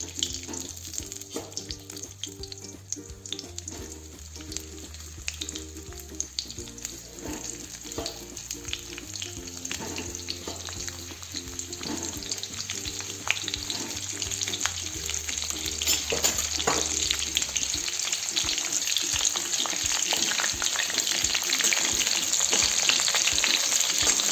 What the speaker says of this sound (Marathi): तेल तापलेलं आहे तर यामध्ये आता हे कारले सोडूयात